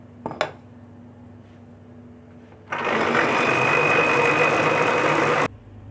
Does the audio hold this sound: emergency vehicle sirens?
no